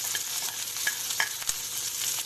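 Soya chunks fry in a hot pan for a hotel-style chilli dish, giving a steady, close sizzle with a few sharper crackles and stirring scrapes, no voices.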